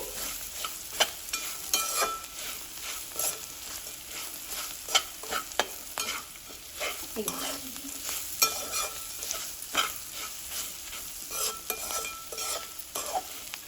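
Bitter gourd fry with garlic chili powder being stirred in a pan, steady scraping and clinking strokes over a continuous low sizzle of frying, close and moderately loud with no talking.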